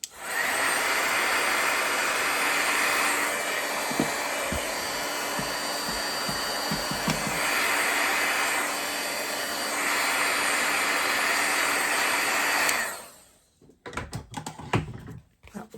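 Heat tool blows hot air to dry a craft card, a loud continuous whoosh for about thirteen seconds before switching off, followed by faint handling noises.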